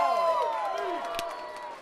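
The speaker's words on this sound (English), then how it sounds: "The crowd goes wild on the show." A lively crowd on the New York Stock Exchange floor cheers and whoops around a Veterans Day closing bell, loud, close and dense, with voices shouting over a steady roar that eases slightly toward the end.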